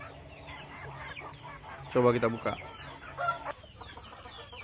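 Rose comb chickens cluck and give short squawking calls, loudest midway, while a person talks nearby as newly arrived birds are unboxed.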